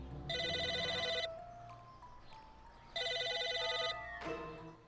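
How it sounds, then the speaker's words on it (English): A telephone rings in the Psychonauts video game, two loud bursts of electronic trilling about a second long each, separated by a pause filled with quiet ambient game sounds. "It's a phone."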